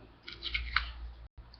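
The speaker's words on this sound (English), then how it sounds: "Right now I'm using household scissors." Household scissors snip through material in a few quiet, close clicks and short crisp cuts, brief and soft against a hushed room, no talking.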